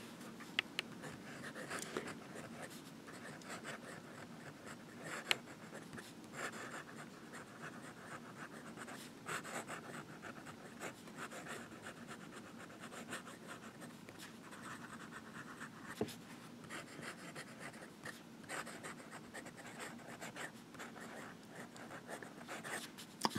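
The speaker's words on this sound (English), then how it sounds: "and I'll do some writing as well." Visconti Mirage Horn fountain pen nib writing on paper, a faint, continuous soft scratching with small irregular ticks, quiet and close, with no talking.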